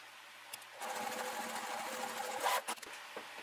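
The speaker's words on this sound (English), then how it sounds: "So I want to sew these together first." A sewing machine stitches fabric pieces together in one steady, close, mechanical whir lasting a few seconds. It starts after a soft click and ends with a few faint taps.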